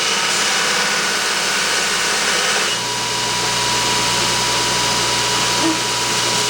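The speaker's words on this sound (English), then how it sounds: "I'll have to use a hand grinder or something." A hand grinder works on a Datsun 521 ball joint, a loud steady whine with a broadband grinding rasp that shifts pitch partway through as the load changes, close up and continuous.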